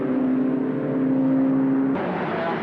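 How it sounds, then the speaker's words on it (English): A smoking Volkswagen Beetle race car in a BRSCC Beetle Cup race passes with a steady, loud engine drone that shifts abruptly toward the end. No one speaks. "And the last car through there,"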